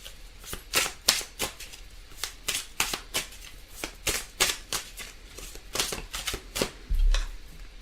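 A tarot deck shuffled by hand during a relationship reading, a steady run of crisp riffling bursts and card slaps, close and fairly loud, with no talking.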